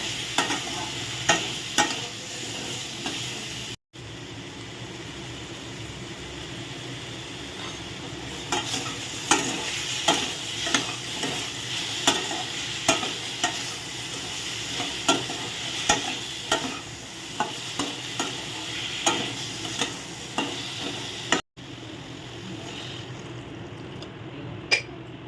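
Potatoes and tomatoes being stirred in a pan, repeated scraping strokes of a spoon over a soft steady sizzle, close and fairly loud, with two brief gaps of silence.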